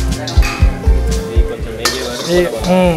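Cumin, curry leaves, green chillies and cashews sizzle in butter in a pan, loud and close, with rhythmic scraping and clanking as a metal spoon stirs them repeatedly.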